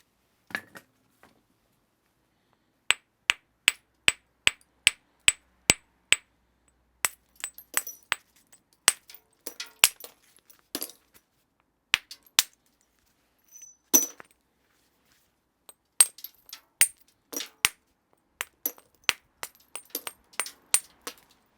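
Flint being knapped into a Middle Palaeolithic bout coupé handaxe: sparse, crisp clicking strikes in irregular bursts, close and fairly quiet against near silence.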